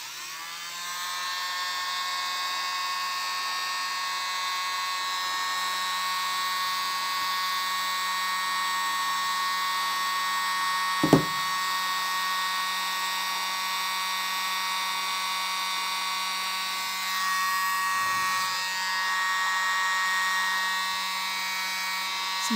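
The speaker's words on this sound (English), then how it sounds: "I got my little smallest blower in the world." A tiny handheld air blower pushes acrylic paint around a strainer pour, giving a steady, close, high motor whine that runs unbroken through the clip, with one sharp click near the middle.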